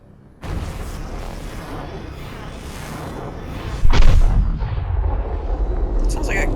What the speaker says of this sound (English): cannon going off